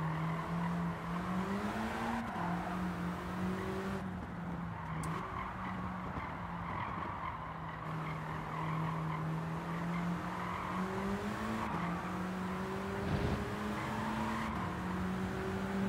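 A car in Gran Turismo 7 brakes late with a sustained tire squeal and skidding over a droning race engine whose pitch rises and falls. The sound runs continuously and close throughout, with nobody speaking.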